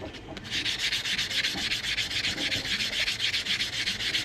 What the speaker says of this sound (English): I take a nail file block and just sand away all those cracks.